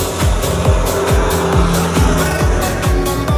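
Vehicles rushing past close by at the side of a highway, a loud continuous roar broken by repeated whooshing pass-bys every half second or so, with no talk.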